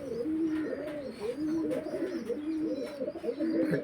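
Pigeons coo steadily and close by in repeated throaty, rolling phrases that overlap one another, with a few faint chirps above them and no voices.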